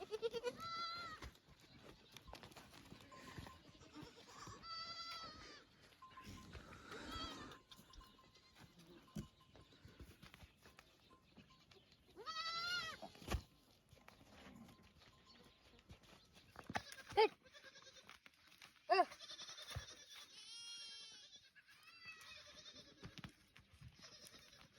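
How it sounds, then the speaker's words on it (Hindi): A goat and its young kid bleat repeatedly outdoors in the early morning in a village near the India-Pakistan border, calls coming at intervals, near and fairly quiet, with occasional hoof clatter. "तो भाई ये अभी बकरी को पकड़ के लाए हैं और ये इसका बच्चा है।"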